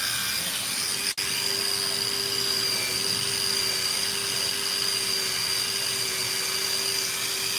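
A power drill runs steadily through material, a continuous whining hum with a sharp click near the start.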